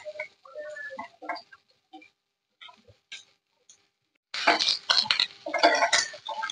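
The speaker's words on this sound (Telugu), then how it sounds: "ఇప్పుడు కడిగేసుకున్న ఆనియన్ ముక్కలు కూడా వేసుకోవాలి." Washed onion pieces go into a pan for frying egg biryani, bringing a sudden, loud burst of sizzling with scattered clinks that follows a quieter stretch of light taps and utensil knocks.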